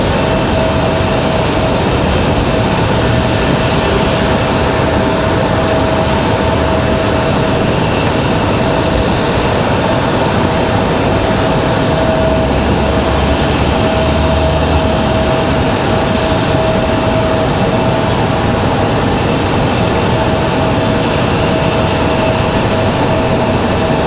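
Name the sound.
Boeing 777 landing with flaps down and spoilers up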